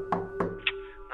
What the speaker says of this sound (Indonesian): Dan pada ketukan pertama,